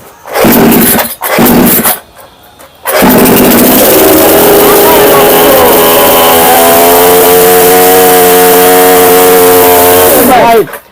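A 16-inch petrol chainsaw is pulled a couple of times, then catches and runs loudly up close, its engine revving and settling in a steady buzzing drone before cutting off at the end.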